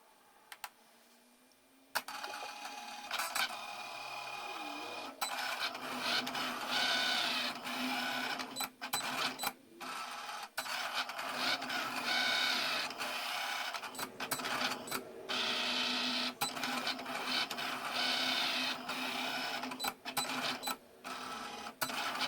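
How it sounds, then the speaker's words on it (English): A Cricut cutting machine slices cardstock keychain shapes, giving a steady mechanical whir and buzz with rapid clicks and brief pauses as the carriage moves, running close and continuous for about twenty seconds. "So we can go ahead and send this over to be cut."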